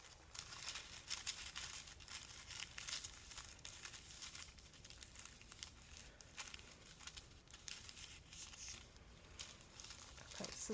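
Tissue paper being folded and crinkled into a rose, giving a steady close-up rustle and crackle of soft paper handling throughout, fairly quiet with no talking.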